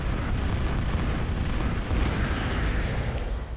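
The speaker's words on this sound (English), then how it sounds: "2 simultaneous bombing runs." Bombing run explosions in a real-time strategy video game, a dense continuous rumbling barrage of blasts that stays loud and steady throughout with no talk.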